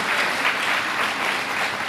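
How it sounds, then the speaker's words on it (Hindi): An audience claps together inside a hall at a talk held at the Constitution Club in Delhi, a dense, steady wash of applause that runs loud and even for the whole stretch with no voices over it. "तो सब लोग एक बार ताली बजाइए जो लोग इस हॉल में हैं अपने लिए।"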